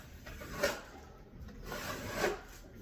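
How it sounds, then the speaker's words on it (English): Scraping tool dragged across damaged drywall to flatten torn paper fibres, two rough rasping strokes close by with quieter scraping between them, no voices. "you're going to want to try and scrape as much of this drywall from underneath and flatten this"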